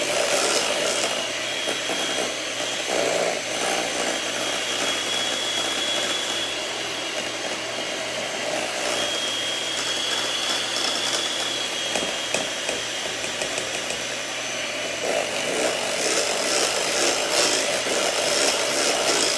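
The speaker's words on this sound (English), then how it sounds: "Actually, I'm gonna use the electric mixer again." An electric hand mixer whirs steadily and loudly for a long stretch, beating a sweet garlic chicken sauce, with a constant motor drone and slight changes in pitch.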